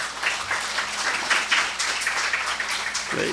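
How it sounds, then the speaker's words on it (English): An audience applauds participants at a result declaration, with steady, moderately loud clapping from many hands over a few seconds. "a hearty round of applause"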